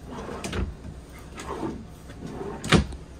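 Dresser drawers in a 2024 Forest River Salem Hemisphere 325RL fifth wheel RV slide open and shut with three soft wooden thumps and rumbles, the last one the sharpest and loudest.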